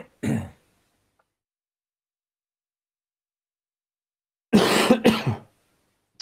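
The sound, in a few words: coughing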